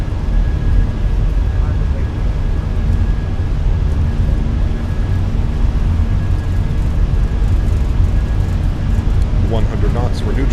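Fenix A320 airliner engines at takeoff power in Microsoft Flight Simulator, a steady loud broadband roar holding throughout with a faint whine, while a voice talks over it.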